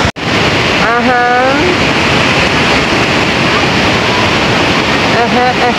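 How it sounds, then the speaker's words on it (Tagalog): Tulay Falls roaring as a loud, constant wash of water close by, with faint voices rising briefly over the rush. "that's the Tulay Waterfall"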